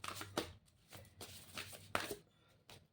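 Unicorn oracle card deck shuffled by hand, with repeated soft papery riffling bursts and sharper slaps of cards at close range, heard alone without talking.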